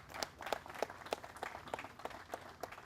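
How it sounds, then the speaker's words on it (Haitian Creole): Applause breaks out for a new Haitian Coast Guard junior agent graduate at a ceremony, a steady patter of many hands clapping at moderate volume with no talk over it. "Sous vos applaudissements, s'il vous plaît."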